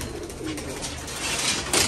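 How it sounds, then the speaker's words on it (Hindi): A golden pigeon coos close by in a short, soft, throaty run of low murmuring notes, with no voices over it. "छोड़ो ज़रा ये भी अच्छा कबूतर है गोल्डन"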